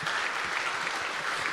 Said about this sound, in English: So let's give a big hand clap to the Lord.